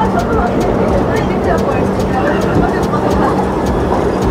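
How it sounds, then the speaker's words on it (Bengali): The Puri-Howrah Superfast Express, train 12838, rolls into a station with a continuous loud rumble and faint rhythmic wheel clatter, while a person talks over it. "পুরী হাওড়া সুপারফাস্ট এক্সপ্রেস হাওড়া ঢুকছে।"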